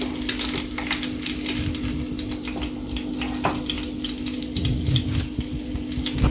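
Rupchanda fish sizzle steadily in hot oil in a pan, a continuous close crackle with occasional stirring clinks and a low kitchen hum underneath.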